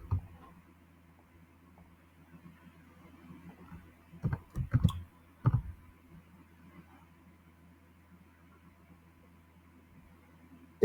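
Several sharp computer mouse clicks sound close by over a quiet low hum, in a short cluster near the middle and a single click at the end.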